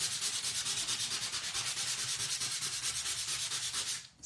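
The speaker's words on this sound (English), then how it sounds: "Should we do a little bit of sanding?" Cardstock being sanded with quick back-and-forth strokes, a steady rhythmic rasping scrub that is close and fairly quiet, with no talking, ending with a brief pause.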